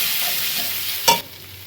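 Ground spices (turmeric, chili, Kashmiri chili, cumin powder) fry and are stirred into tomato puree in a pan, a steady broadband sizzle with a brief louder scrape of the spoon near the end.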